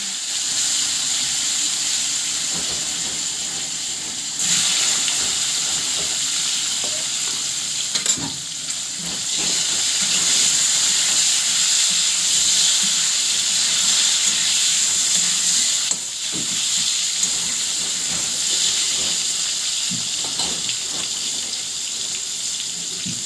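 Potato and eggplant pieces sizzle steadily in hot oil while fish curry is being cooked. The loud, continuous hiss carries on throughout, with occasional clinks and stirring noises close by.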